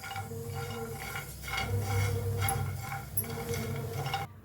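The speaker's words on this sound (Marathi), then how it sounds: "खोबरं हलवून भाजून घेऊया।" Grated coconut being stirred as it dry-roasts in a pan for an egg curry, a soft steady scraping with light utensil ticks against the metal, close and continuous, with no voices.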